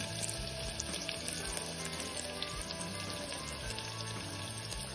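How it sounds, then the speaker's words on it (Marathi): Onions sizzle steadily in a pan for the Marathi spiced pavta bhaat, fried until reddish brown; a dense, continuous close crackle with no talk. "आता चांगला लालसर होईपर्यंत परतून घ्यायचा।"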